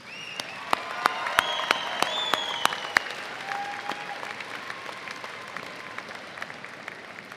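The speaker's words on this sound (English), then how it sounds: "please give a round of applause to thank those here for their contributions to your achievements" A university commencement audience applauds steadily at a distance, with a wash of clapping and a few sharp, louder claps standing out near the start, slowly thinning toward the end.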